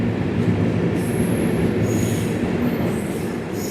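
Falaknuma Express pulling into Khurda Road junction: a loud, steady rumble of rolling wagons with high metallic wheel squeals coming and going, heard from close by on the train with no talk.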